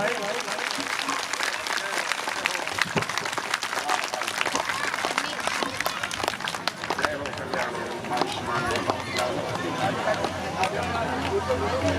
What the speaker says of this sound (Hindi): ताली बजा के सभी लोग स्वागत करें भाई।